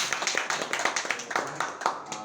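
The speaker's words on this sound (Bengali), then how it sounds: "ওনার জন্য সবার কাছে একটা করতালি আশা করছি" An audience at an office celebration programme in Bangladesh claps in a brief, steady round of applause. The claps are dense and fairly close, with a faint murmur of voices underneath.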